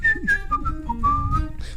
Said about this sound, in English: I can harmonize a whistle with the lead guitar at the same time